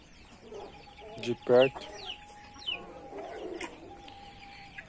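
Poultry cluck and coo up close, with one louder squawk near the start and softer scattered calls after it, over quiet background and a brief spoken phrase.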